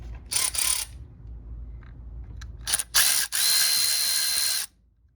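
A power tool whirs in short bursts, then a longer run, undoing a fastener on the engine of a 2003–06 Mercedes E320 (W211). The sound is close and loud, with quiet gaps in between.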